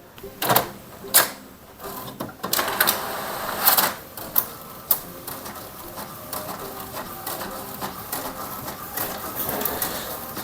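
An inkjet printer with refilled ink cartridges clatters and whirs in short bursts, failing to print, with sharp mechanical clicks and feeding sounds scattered through a steady low hum.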